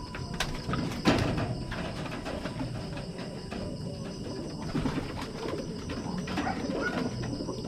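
Molting pigeons coo repeatedly at close range, soft rolling calls with a few wing flaps and light clatter in the background.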